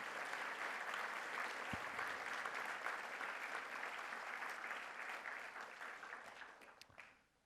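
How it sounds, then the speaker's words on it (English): Audience applause at a Catholic primary school awards event, a steady dense clapping from a large crowd that carries on for several seconds and then fades out near the end. "And let's give them a round of applause."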